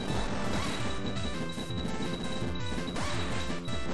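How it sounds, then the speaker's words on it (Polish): Jelly enemies in the video game Cave Story are struck by weapons, producing dense, repeated crashing and smacking game sounds over a loud, busy soundtrack with no speech. "Jellies zrobią bardzo dziwne dźwięki, kiedy się atakuje niektórymi broniami."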